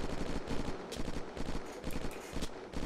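Rapid bursts of automatic gunfire in the survival video game Unturned, loud and close, repeating in uneven volleys across the whole stretch with no talking.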